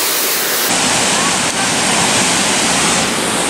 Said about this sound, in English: This waterfall is so pretty.